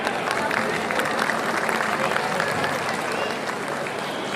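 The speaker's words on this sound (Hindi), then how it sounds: "एक बार जोरदार तालियां हो जाएं।" Dense, sustained applause from a crowd at a school annual function, steady loud clapping that fills the whole stretch without pause.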